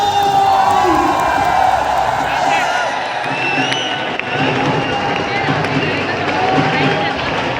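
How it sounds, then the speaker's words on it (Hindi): Large conference audience at a stock market event clapping, cheering and whooping to welcome guests, a loud dense wash of applause and shouts filling the hall without pause. "Can we all have a huge round of applause for all of them?"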